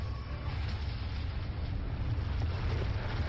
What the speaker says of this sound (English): The spacecraft exploded violently and crashed in Laos.